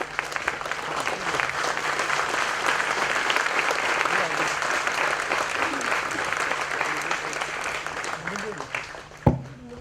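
Sustained applause from an audience at a book launch, steady and dense for most of the stretch with voices mixed in, ending in a sharp single bump before it fades.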